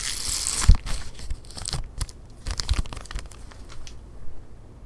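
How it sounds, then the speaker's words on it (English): Plastic wrapping on a vinyl record being handled in a record shop, close, soft crinkles and small tearing rustles in irregular bursts, fairly quiet. "Something about the crinkling plastic brings me comfort."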